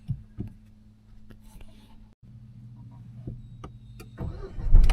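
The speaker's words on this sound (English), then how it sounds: "The engine is on now. I just started my engine." A car engine cranks and catches, settling into a steady low idle rumble with faint clicks and brief low voices around it.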